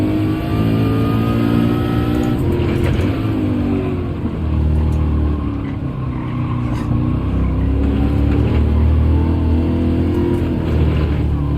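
A deep, throaty Mercedes-AMG V8 engine in Gran Turismo 7 drones continuously, revving and shifting through gears at high volume without letup.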